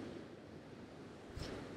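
Ocean waves on the Donegal coast of Ireland roll in as a faint, steady wash of surf with wind noise. A soft thump and a brief crash of spray come near the end.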